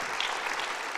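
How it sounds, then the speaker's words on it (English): An audience at the YITCON 2014 conference applauds, a dense, steady wash of clapping from many hands, moderately loud throughout. "give him another round of applause"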